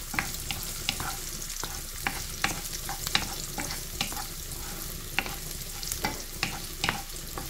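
Garlic frying in a pan for a spinach and mushroom dish, a soft continuous sizzle broken by regular scraping stirs of a utensil, fairly quiet and close, with no voices.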